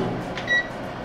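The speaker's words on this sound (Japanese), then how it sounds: "電子レンジ大体600W、9分、ラップしないでこのまま入れる" A 600 W microwave oven starts heating pasta, its steady electrical hum and fan noise running throughout with a brief faint beep near the middle, close by.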